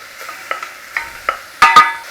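Chopped onion cooking in a pan as the base for a red wine jus, a faint sizzle with a handful of soft scraping strokes and two louder clattering stirs near the end.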